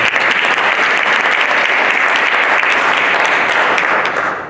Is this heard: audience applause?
yes